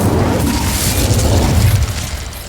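Incendio fire spell cast in the video game Hogwarts Legacy, a loud, sustained roaring whoosh with rumbling low booms that fades slightly at the end.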